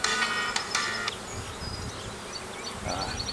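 Honey bees buzz in a hive being requeened, a dense, steady hum close by with a few sharper buzzing notes and light rustling, no voices.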